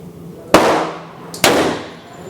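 Two loud, close revolver shots from a Ruger Super Blackhawk at an outdoor shooting range, about a second apart, each a sharp crack trailing into a short echo.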